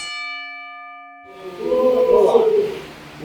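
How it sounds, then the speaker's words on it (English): A wrestling ring bell at a pro wrestling training session in the Philippines rings once, clear and close, and its tone rings out before a burst of loud crowd cheering and voices takes over. "Ring the bell."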